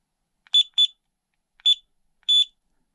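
Four short electronic beeps, grouped as two, then one, then one, from an LDARC CT01 budget 8-channel car and tank radio transmitter when its button is pressed. They are sharp and clear with silence between them.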